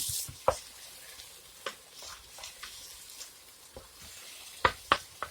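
A spoon stirs a thick beef stew mixture in a pan, making sharp intermittent scrapes and clacks against the pan over a faint sizzle, with no talking.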